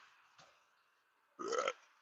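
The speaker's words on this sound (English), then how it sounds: "Did not mean to burp right into your ear." A single short, close burp erupts after a faint earlier sound, loud against an otherwise quiet background.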